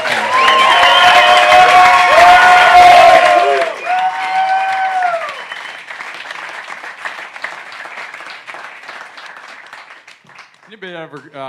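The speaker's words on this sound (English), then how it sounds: "that was a round of applause, but one more time for Dan Green and his team." An audience at a live debrief talk with the Cocodona 250 ultramarathon champion gives loud, sustained applause with cheers and whoops, then the clapping thins and fades, with a voice briefly audible at the end.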